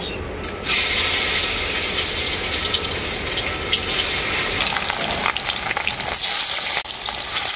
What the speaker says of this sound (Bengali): মাছগুলো আমি এখন ভেজে নেব।